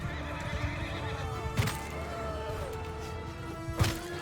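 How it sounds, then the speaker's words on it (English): A horse in the video game Bannerlord neighs and whinnies as it takes friendly fire damage during battle, two sharp cries over a steady rumble of combat, with hooves clopping and thuds nearby. "my horse is taking massive friendly fire damage from me"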